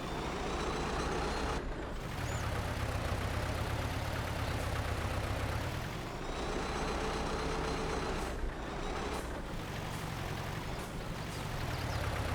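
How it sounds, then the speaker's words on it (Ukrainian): Heavy tractor engine idling and rumbling steadily in Farming Simulator 22 while the tractor is detached from its implement, with brief dips and mechanical clanks, continuous and close with no talk. "Відчіпляємо трактор."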